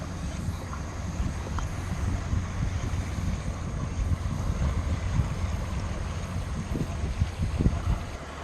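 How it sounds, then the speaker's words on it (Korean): Waves wash steadily over a pebble beach on Manji Island near Tongyeong, South Korea, a continuous rushing surf mixed with gusty wind noise on the microphone, with no voices. "파도 소리 싹싹 참 듣기 좋네요"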